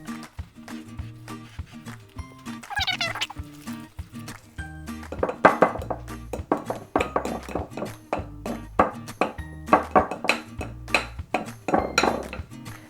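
Banana muffin batter stirred in a bowl with a spoon, producing a regular run of clinks and soft thumps against the bowl, close and clear, with no voices.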